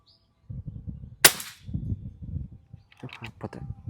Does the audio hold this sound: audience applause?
no